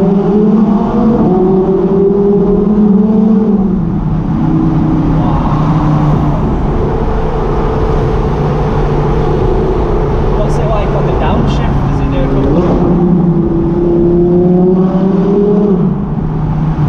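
Audi R8 5.2 V10 with a Cobra Sport valved exhaust revving under load: loud, sustained engine roar with rising and falling rev sweeps at the start and end, close by, with a voice briefly audible midway.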